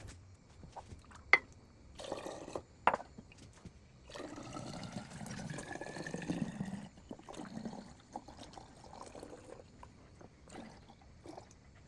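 Pear juice pours from a giant Pyrex dish into a smaller one in a home kitchen during canning, a steady wet splashing stream that swells in the middle and is broken by a few sharp glass clinks.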